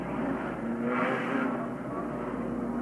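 Race cars at Richmond's 1980 stock car race circle the track in a steady, continuous engine roar, one car's tone sweeping past near the middle, with no talk over it.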